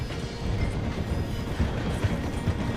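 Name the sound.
train passing through a station in Red Dead Redemption 2 video game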